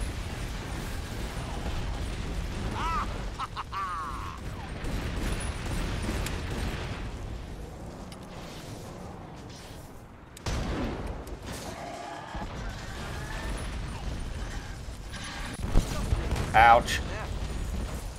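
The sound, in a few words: blitzer enemies exploding in video game Iron Brigade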